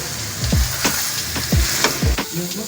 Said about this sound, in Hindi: ऐसे मसलसल चम्मच चलाते हुए हमें इसे पकाना है कि जो चिकन है वो हमारा बिल्कुल ठीक रहे